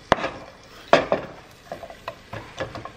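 Onions dropped into a hot pan of oil, with a few sharp clatters and taps of utensil against pan followed by soft, faint sizzling and stirring, close and quiet.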